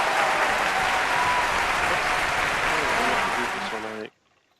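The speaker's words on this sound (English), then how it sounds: "clap, clap, clap. Good job, Snail." Audience applause for the winner of a giant snail race, a dense steady clapping from a crowd that runs for about four seconds and then stops abruptly.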